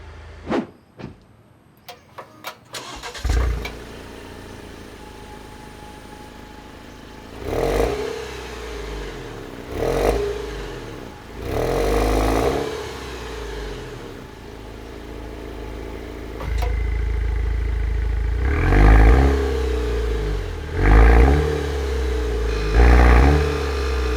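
A 2022 Maserati Levante Hybrid engine revs repeatedly in sport mode with exhaust valves open, loud surging bursts over a steady low idle, a deep throaty roar rising and falling several times.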